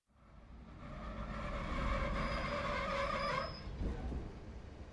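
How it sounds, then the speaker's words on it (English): A passenger train travels along the track, its rolling rumble swelling to a steady roar with a faint high whine, then easing slightly toward the end, heard from on board. "I'm on the train."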